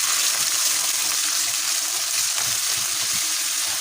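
Minced meat frying in a pan on a gas stove, cooking in rendered animal fat, giving a loud, steady, close sizzle that runs without a break, with faint scraping of stirring underneath.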